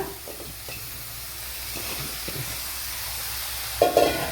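Papaya pieces are tipped into a hot pan for a papaya cutlet snack and stirred, giving a steady close sizzle with soft scraping and a brief louder clatter near the end.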